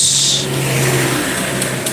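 An automatic (matic) scooter engine running rough at a cold morning start, its oil thinned out and losing lubrication, gives a steady close idle hum with a raspy edge and a couple of faint ticks near the end.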